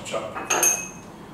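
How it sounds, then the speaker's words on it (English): A knife chopping fresh strawberries on a board beside a small ramekin: a brief pair of close clinking taps on the board, quick and light. "Just going to put this little ramekin at the side, and chop."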